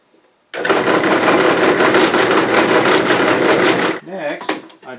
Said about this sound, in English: So first I drill a hole into this aluminum